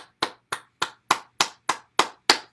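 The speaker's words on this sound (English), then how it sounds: "clap the hands" Nine sharp, evenly spaced hand claps at a steady rhythm, close and crisp with silence between each, during a morning bouncing exercise session.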